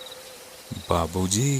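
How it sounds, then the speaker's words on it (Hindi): Crickets chirp at night, a faint steady trill running in the background before a voice starts speaking over it. "सिर्फ झींगुर की आवाज आ रही थी।"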